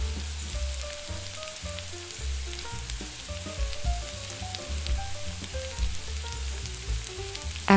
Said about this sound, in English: A half cup of dry white wine is added to deglaze the pan.